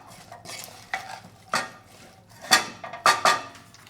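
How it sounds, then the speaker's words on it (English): A spoon stirs black beans with soy sauce and oil in a pot, giving a series of irregular scraping and clinking strokes against the metal, close up and growing sharper toward the end, with no talking. "And stir this."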